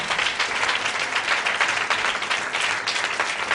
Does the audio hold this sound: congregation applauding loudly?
yes